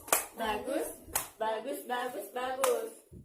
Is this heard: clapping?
yes